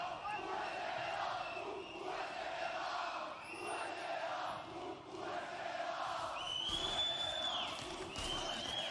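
Large live crowd roaring and cheering continuously at a League of Legends esports match at MSI 2023, a broad wash of voices rising and falling under faint commentary.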